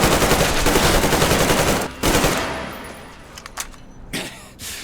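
Gunfire in the video game Metro Exodus: a dense burst of rapid automatic fire that gives way to scattered single shots and thumps, loud and close.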